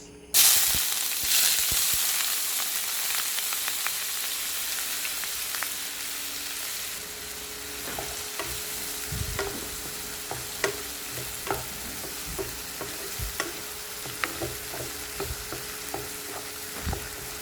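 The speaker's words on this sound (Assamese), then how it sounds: "পিঁয়াজখিনি অলপ লৰাই দিম।" Onions frying in hot oil while being stirred, a loud steady sizzle with scattered scraping and clicking stirring sounds throughout, no voices.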